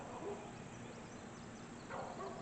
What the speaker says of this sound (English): Them beagles are barking across the other side of the woods, and Blue is barking behind me.